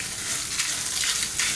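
Garlic and pre-roasted chillies for a spicy chutney hiss softly in a pan with the heat switched off, with a few gentle stirring scrapes over a steady sizzle and no voices.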